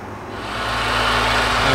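SRT Jeep engine with a Whipple supercharger and a bad pulley, running with a low steady hum and a rising whine that swells over a couple of seconds, close and alone.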